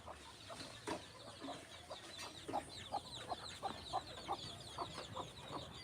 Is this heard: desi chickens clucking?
yes